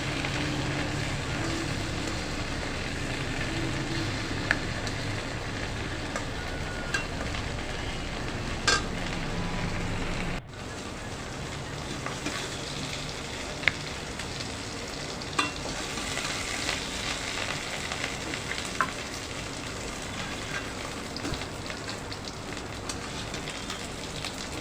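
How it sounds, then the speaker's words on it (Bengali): Fish shallow-frying in a pan of hot oil while being turned, a steady dense sizzle and crackle running throughout at close range, with a brief dip partway through and occasional sharper pops and scrapes. "এইভাবে উল্টে পাল্টিয়ে আমি সবগুলো মাছ ভেজে নেব এখন।"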